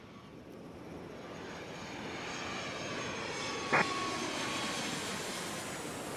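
Airliner taking off at Atlanta airport, a steady jet engine roar that swells slightly at a distance, with a brief click partway through.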